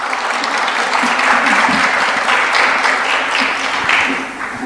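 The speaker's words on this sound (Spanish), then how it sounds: "a quien le pedimos un fuerte aplauso," Steady, full applause from a conference audience in a hall, sustained at even loudness for several seconds before easing slightly at the end.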